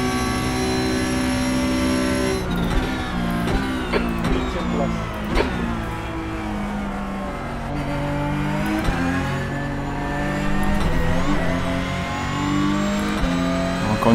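Porsche race car in iRacing at a Brazilian circuit, engine revving up and down through gear changes with sharp shifts, loud and continuous over the whole stretch.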